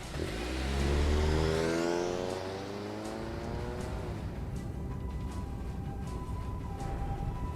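A car engine revs hard and accelerates away from the video game 428: Shibuya Scramble, loud at first with rising pitch, then fading into a steady, lower road hum.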